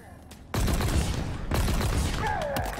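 Sustained automatic gunfire from a weapon in the video game Halo Infinite, a loud continuous burst that starts abruptly and runs to the end with a brief dip partway, with faint talk mixed in.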